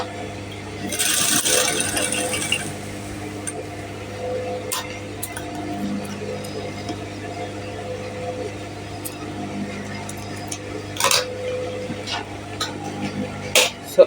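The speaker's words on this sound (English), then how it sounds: "I'm on the machine now. I'm just going to raise my machine foot up, and then I'll press it, and then I'm going to create my stitch" A sewing machine stitches a dart into a bra cup for a bust tightening alteration, with brief whirring bursts of needle action against a quiet room and a faint voice in the background.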